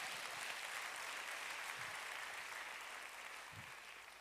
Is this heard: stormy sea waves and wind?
no